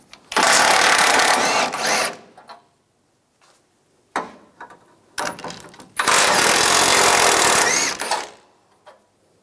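Bursts from a power tool drive an 18mm socket on the bolts of a 1999-2006 Chevrolet Silverado 1500 front bumper, two long loud whirring runs with short taps and clicks between them.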